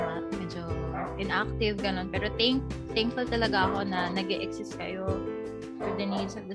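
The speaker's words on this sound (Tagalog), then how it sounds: "pasensya na sa aso namin." A household dog yips and barks in the background of a podcast recording while a person keeps talking over it.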